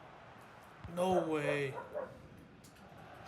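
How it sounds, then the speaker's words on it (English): A dog gives a short burst of barking somewhere in the house, partly masked by a voice speaking over it during a FIFA video game session, with the barks fairly faint beneath the talk. "That's my dog barking,"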